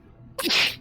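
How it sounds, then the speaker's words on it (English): One sharp, loud sneeze bursts out close by after a brief quiet moment. "Oh, I gotta sneeze."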